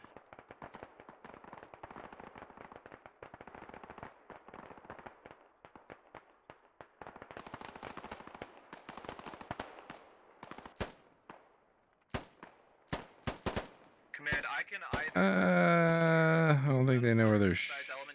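Gunfire in the SquadOps video game, dense rapid bursts followed by several sharp isolated shots, ending under loud close talk.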